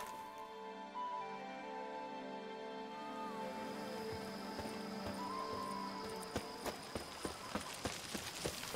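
A horse's hooves clip-clop in The Witcher 3 game, first under steady ambient game sound and music, then a clear run of rhythmic, evenly spaced hoof clops building near the end, with a brief whinny.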